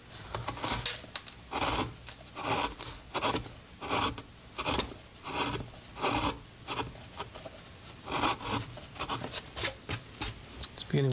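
Rhythmic rasping strokes of a blade shaving the ends of wooden guitar braces by hand, repeated steadily at close range.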